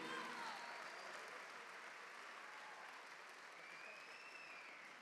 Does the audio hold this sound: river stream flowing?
no